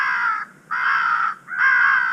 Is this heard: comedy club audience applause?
no